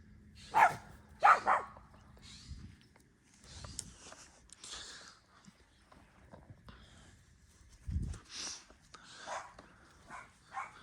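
A dog barks a few times down a hill outdoors, the sharp barks loud and close together early on, followed by quieter scattered sounds with faint voices.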